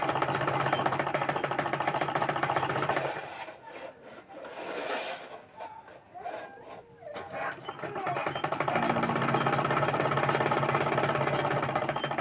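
Sewing machine stitching a welt pocket: a fast, steady mechanical whir running loud and close, dropping away in the middle while it stops and briefly restarts, then resuming at full speed.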